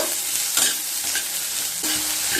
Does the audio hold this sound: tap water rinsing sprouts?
no